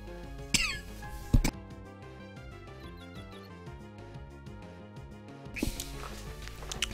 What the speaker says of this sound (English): Trying not to cough to death here.